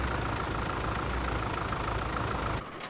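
A 75 horsepower farm tractor engine idles steadily and loudly up close, a continuous low rumble that cuts off abruptly near the end.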